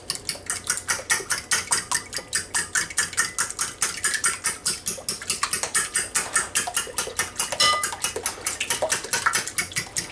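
Milk and egg being stirred together in a bowl, a fast, even train of rhythmic clicking beats as the utensil whisks against the bowl's sides, close and continuous without speech.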